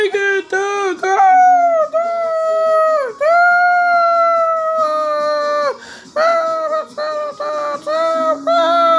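A cartoon dog lets out long, wavering howls, several drawn-out calls in a row with brief yips between them, loud and close, with an excited voice talking in places.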